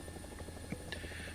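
Helicopter in a VR flight video game, a steady rotor and engine drone with faint chopping pulses, heard alone at low level.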